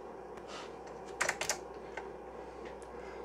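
Vintage PC keyboard on an old Turbo XT-class computer being typed on, a handful of sharp clacky keystrokes clustered near the middle over a low steady hum, close and without talk.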